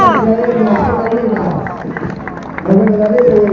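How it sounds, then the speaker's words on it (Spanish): A crowd claps and cheers at a commemoration ceremony for 2 April 1982 in Santiago del Estero, with dense sustained applause mixed with voices throughout. "Aplausos."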